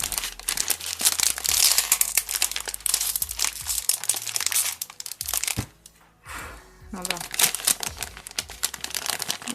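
Plastic wrapping crinkles and tears open around a LEGO Nexo Knights magazine, with dense close crackling bursts for most of the clip and a brief quieter gap midway.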